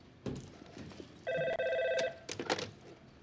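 A telephone rings in a TV drama scene, giving one clear electronic ring burst in the middle of the clip between soft knocks and rustles, with brief quiet voices around it.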